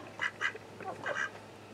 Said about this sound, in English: here's the ducks, the little duck pen that they got